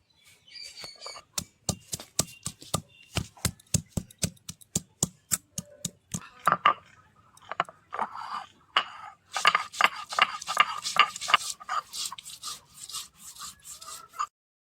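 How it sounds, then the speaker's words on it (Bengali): Ginger being ground into paste by hand on a stone, with steady rhythmic scraping strokes that come close and clear and later turn into faster, denser rubbing. "প্রথমে আমি আদা বাটবো।"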